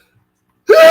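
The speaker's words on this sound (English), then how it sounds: "I'm sneezing, man." A single sudden sneeze bursting out after near silence, loud and close, brief and sharp.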